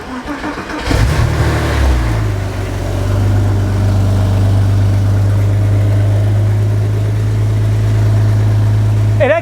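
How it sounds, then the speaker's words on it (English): A Porsche 986 Boxster engine starts with a rough burst, then settles into a steady, deep, loud exhaust rumble at idle that holds for several seconds. "It's still got a nice exhaust note, but it's not crazy."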